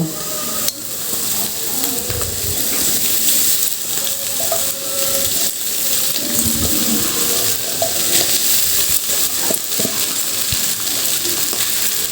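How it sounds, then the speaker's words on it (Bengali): Soaked large-grain sago pearls go into a hot wok for an egg and sago dish, giving a continuous close sizzle with scattered crackles and light stirring noises. "সাবুগুলো ভিজিয়ে রেখেছিলাম কড়াইয়ের মধ্যে দিয়ে দেব"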